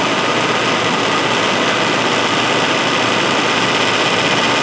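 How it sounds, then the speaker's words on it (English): A 1998 GMC truck engine runs close by with the AC compressor clutch cycling, giving a loud, dense, steady mechanical roar and hiss with no clear breaks, no talking. "You can tell already how much the clutch cycling, how it's not kicking in and out."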